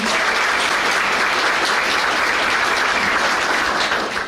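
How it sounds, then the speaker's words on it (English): Dense, sustained applause from a banquet audience at a chamber of commerce dinner, loud and even throughout with no talk over it, easing slightly at the very end. "Give them a round of applause, please."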